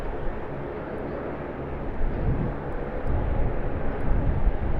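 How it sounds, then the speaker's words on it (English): A Jetstar Airbus A320 arrives at Sydney Airport at dusk, its steady, distant jet roar building gradually in loudness over a few seconds. "that Jetstar Airbus A320 arriving"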